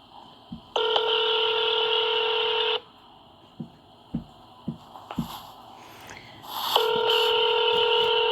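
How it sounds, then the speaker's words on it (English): A telephone dialing a number: two long steady dial tones separated by a run of short sharp keypad beeps, heard close and clear with no talk. "This is actually me calling that number that she told me to call"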